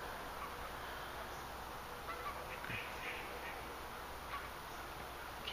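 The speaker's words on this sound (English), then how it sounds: "I can hear a lot of geese out there too." Distant geese honking faintly now and then over a low, steady outdoor background hum.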